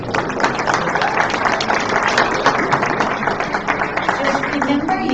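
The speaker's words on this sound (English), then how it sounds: "Let's give him one more round of applause." A meeting audience applauds Congressman Mike Kennedy with sustained, dense clapping that holds steady and fairly loud for several seconds.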